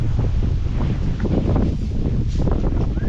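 Strong wind buffets the microphone outdoors in Pakil, Laguna, a continuous, loud low rumble, gusting steadily throughout.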